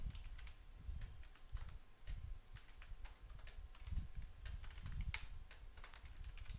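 Python code typed on a computer keyboard, a quick uneven patter of soft key clicks in short bursts with brief pauses, close and fairly quiet, no voice.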